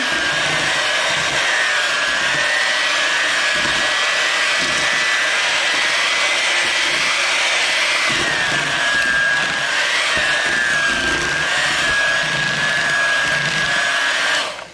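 An electric mixer beating zucchini bread batter, a steady loud whirring drone with a slight wavering pitch, running continuously up close and alone before cutting off at the end.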